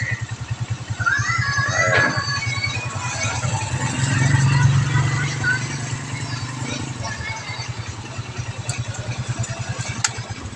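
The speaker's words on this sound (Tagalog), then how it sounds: "May mga ating makina guys, sayang gasolina." A vehicle engine idles steadily nearby throughout, a low regular chug running under intermittent talk.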